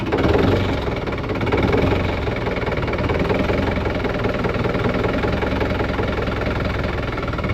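A tractor engine runs at a steady, close idle with a rough, knocking rhythm, loud and continuous throughout, with no talking.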